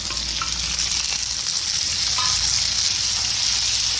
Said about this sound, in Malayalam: പച്ചമുളകെല്ലാം വഴന്നു കഴിഞ്ഞ് അതിലേക്ക് നമുക്ക് ഈ തക്കാളി കൊടുക്കാം